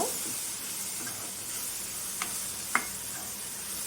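Grated coconut and sweet corn are stirred as they sauté in a pan for sundal, a soft steady sizzle with a few light scrapes and clicks of the spoon, close and fairly quiet.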